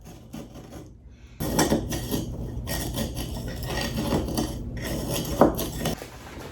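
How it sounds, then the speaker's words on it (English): Butter knife sliding down the inner sides of a terracotta pot while a plant is repotted, producing close, repeated rasping scrapes in uneven strokes with no talking. "I've got my butter knife here, and what I'm gonna do is just go through and slide it down along the sides of the pot"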